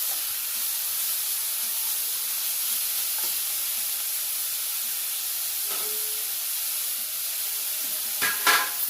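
Radish frying in a pan for a chutney, a steady broad sizzle and hiss throughout with a few soft stirring scrapes and a brief louder spatter near the end.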